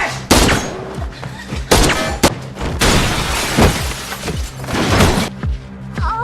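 In an action scene from the 2022 Korean film Special Delivery, a body crashes through a glass window, with repeated loud shattering impacts and sharp cracks amid dense, chaotic crashing noise throughout.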